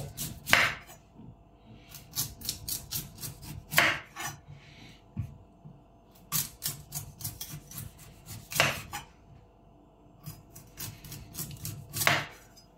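A knife peels the skin off a celeriac root in a home kitchen, giving repeated rasping scrapes and sharp cuts in uneven bursts, close and fairly quiet, with no talking.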